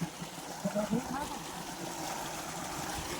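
Cold water gushing from a farm tubewell, a continuous rushing, splashing flow heard up close, with a few brief voice sounds near the start.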